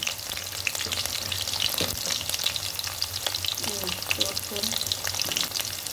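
Chana dal and mustard seeds with cumin sputter and fry in hot oil, a steady dense sizzle with scattered crackling pops running throughout, close and unbroken, with no voices.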